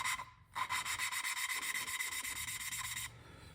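Rhythmic back-and-forth rubbing as an engine valve is lapped against its seat with lapping compound and a suction cup, from a 2005 Lexus ES330 engine teardown; close, steady strokes that stop abruptly near the end.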